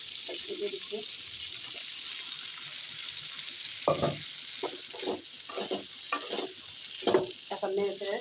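Red long beans with potato and green chillies stir-frying in a pan, a soft steady sizzle broken by repeated scraping stirs that come in bursts, near and fairly quiet with no voice over it.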